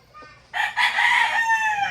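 A Kelso gamefowl rooster gives a single drawn-out crow, clear and fairly close, after a faint cluck at the start.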